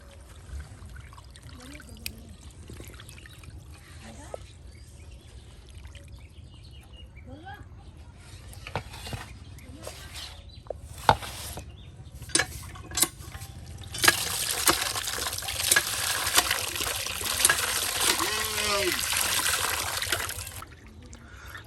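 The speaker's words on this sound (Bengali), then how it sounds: "মাংসগুলো কিন্তু এখন কেটে বেছে নেওয়ার পর যে পরিষ্কার করে দৌত করে নেওয়া হচ্ছে" Water splashes and trickles over chopped chicken pieces being rinsed in a Bangladeshi village kitchen, quiet at first, then louder and more continuous pouring with irregular splashes, while voices talk over it and birds occasionally chirp.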